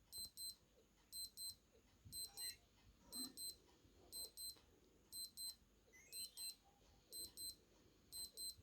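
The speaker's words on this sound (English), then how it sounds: "see what it sounds like when this alarm goes off" A Timex Marathon digital watch alarm sounds a quiet, high, steady series of repeated beep bursts, roughly once per second, with nothing else heard.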